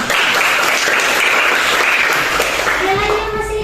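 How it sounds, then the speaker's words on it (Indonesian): A classroom of students claps loudly and steadily, with children's voices mixed into the applause as it begins to fade near the end. "Berikan tepuk tangan."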